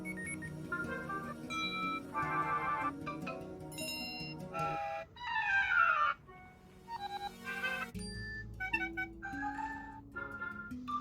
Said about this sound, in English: Let's also go through the alert tones.